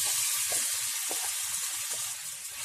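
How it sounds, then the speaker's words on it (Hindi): Marinated chicken sizzles loudly in hot oil, a steady dense crackle with a few brief spatters and pan knocks, no talking. "पैन में हम 2 टेबलस्पून तेल गरम कर लेते हैं। तेल हमारा अच्छे से गरम हो चुका है। हम इसमें ये मैरिनेट किया हुआ चिकन डाल देते हैं।"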